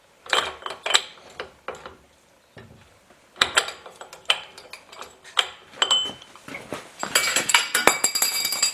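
Tools and metal parts clatter and clink while Willys CJ2A axle hubs are being installed; sharp, irregular metallic knocks and drops come in bursts, ending in a denser jangle.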